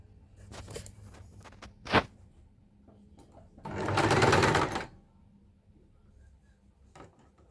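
A household sewing machine runs one steady burst of stitching along the reverse side of a pillowcase seam, close and clear, framed by quiet fabric handling and a sharp knock.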